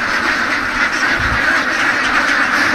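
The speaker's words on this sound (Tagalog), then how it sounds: "Itik naman yun." A flock of ducks on a farm in Misamis Occidental keeps up a loud, continuous chorus of overlapping quacks, close and busy, with no clear speech.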